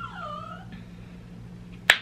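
A dog whimpering for attention gives a few high, thin, wavering whines at a distance, ending with a sharp click or snap nearby, with no speech.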